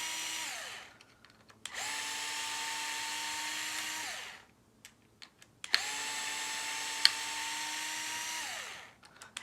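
A cordless power driver backs out screws from a plastic RC car gearbox, two loud whirring bursts rising and winding down, separated by brief pauses with small clicks and handling noises.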